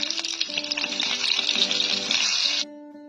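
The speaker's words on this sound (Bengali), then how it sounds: "কড়াই আমি নেড়ে দিচ্ছি" A spatula stirs food frying in a kadai wok in a home kitchen, making a bright, close sizzle with scraping texture that runs for over two seconds and then cuts off abruptly, leaving a faint hum.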